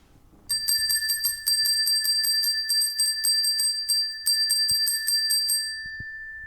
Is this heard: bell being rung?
yes